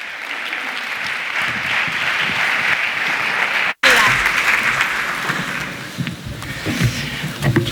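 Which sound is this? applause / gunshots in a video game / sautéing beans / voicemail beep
applause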